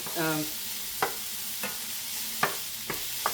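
Celery, onions and mushrooms sauté in a pan with a steady close sizzle, broken by a few sharp scraping stirs at irregular intervals.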